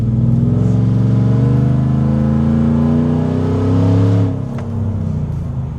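A supercharged GMC Sierra pickup engine, fitted with a Magnuson TV2650, revs hard in a quick part-throttle hit, a loud, deep rising roar held for about four seconds before snapping off to a lower idle.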